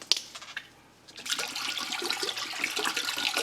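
Water from bottles is poured into a cooking pot for pasta: a short quiet splash at first, then a steady bright gush of liquid filling the pot, close and continuous, without talk.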